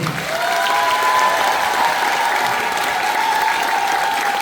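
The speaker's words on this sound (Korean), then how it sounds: "박수 한번 쳐주십시오, 여러분." A large audience at a party leaders' joint rally in a convention hall breaks into steady, sustained applause, a dense wash of clapping heard alone without speech.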